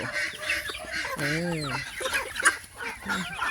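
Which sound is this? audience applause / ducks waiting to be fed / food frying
ducks waiting to be fed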